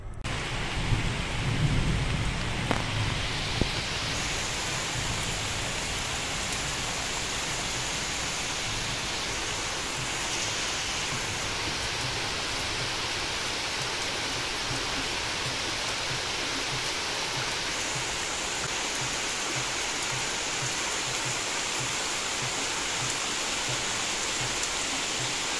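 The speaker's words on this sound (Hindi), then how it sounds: "तो बाहर आपने देखा कितनी ज़ोरों की बारिश हो रही है, बहुत बहुत तेज़ बारिश आई है इस टाइम पे।" Heavy rain pouring steadily outdoors, a dense continuous hiss of downpour with a faint rumble of thunder early on, no talking.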